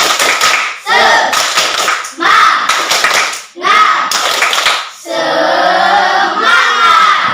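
Classroom group doing a rhythmic spirit clap routine, loud bursts of clapping in several short patterned phrases separated by brief pauses, ending with a shouted group chant.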